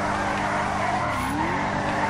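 A BMW drifting in the video game GTA 5, its tires squealing in a long sustained skid over a droning engine, loud and continuous with no voices.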